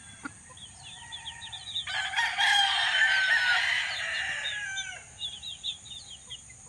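Chickens of various breeds move around a yard with soft clucks and chirps, and one rooster crows loudly in the middle, somewhat distant, over a quiet outdoor background.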